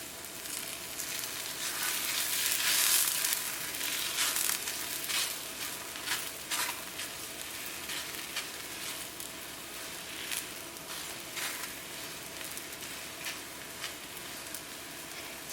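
Methi paratha fries in oil in a pan, giving a steady close sizzle with crackling pops that swell early and then settle into a constant hiss.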